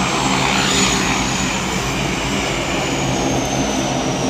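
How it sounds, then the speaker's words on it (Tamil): A seaplane comes in to land on the water in the Maldives, its propeller engine roaring loud and steady close by throughout, with no voices. "இப்போ ஒரு சீ ஃப்ளைன் வந்து லேண்ட் ஆகுது."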